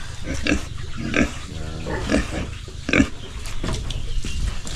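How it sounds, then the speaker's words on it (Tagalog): A month-old pig grunts and snorts repeatedly at close range over a steady low background rumble, with a few louder squeals mixed in. "So, ito yung baboy natin."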